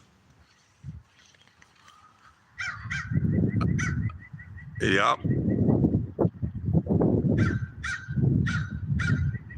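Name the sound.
crow cawing outside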